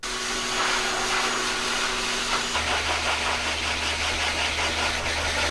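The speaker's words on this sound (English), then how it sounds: "this is the ear cover they have to wear because the blow dryer can be a little loud" A loud blow dryer runs steadily and close during cat grooming, a constant whooshing roar with a hum that deepens partway through, with no talking.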